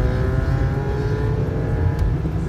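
A car with a loud exhaust pipe sits revving nearby, a steady, heavy engine drone with a deep rumbling exhaust tone and a constant throaty roar, with no talking.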